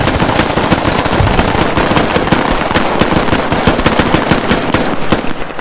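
Rapid automatic gunfire in the military shooter game Squad, dense loud bursts of shots fired close by in quick succession, continuous throughout without talking.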